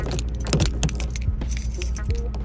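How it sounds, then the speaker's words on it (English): Small metal clicks and jangles come from a key being worked back and forth in a car door lock during a non-invasive entry on a GM vehicle, close and distinct, with a low steady background hum. "There, did you hear it? Key works back and forth."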